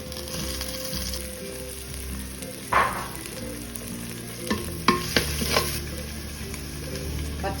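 Shallots frying in hot oil for a homestyle fish head curry, with a steady sizzle throughout and a few sharp scrapes and clinks of a spoon stirring against the pan.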